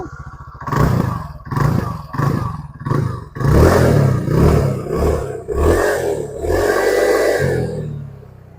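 A TVS Ntorq 150 sport scooter's engine is revved in a series of short, loud throttle blips, then held in longer surging roars close to the listener, with no talk over it.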